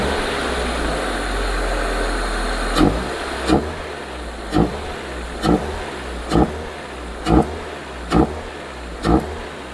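A 1994 Toyota Corolla with a 7AFE engine cranks over, then settles into a steady idle with a string of evenly spaced louder pulses, close and clear with no voices.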